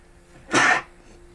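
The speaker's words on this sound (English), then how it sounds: "I had to sneeze" One sharp, explosive sneeze bursts out close to the microphone in a quiet indoor setting, lasting about a third of a second before silence returns.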